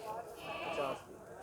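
A goat bleats at the Gujrat goat market, a wavering mid-pitched cry amid crowd noise and voices of traders talking nearby.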